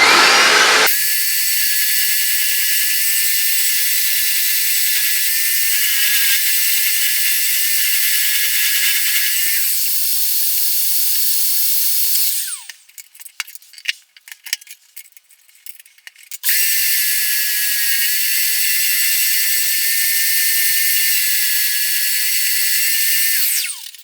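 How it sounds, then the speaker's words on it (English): An oscillating bobbin sander works the edges of an SG junior style guitar body, a steady high-pitched whine running loud and close, broken midway by a few seconds of rattling, uneven contact noise before the even drone resumes. "we'll move it onto the oscillating bobbin sander to get the bits that we couldn't get with the disc"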